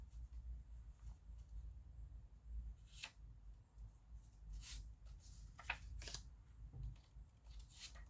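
A large hand-made deck of cards is shuffled nearby, giving soft, quiet bursts of riffling and flicking cards in irregular clusters against a low, hushed room background.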